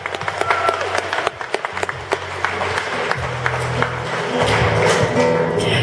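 An audience applauds a singer at a health festival held at Arena Lviv, a steady wash of clapping over low music tones that continues through the whole stretch without pause.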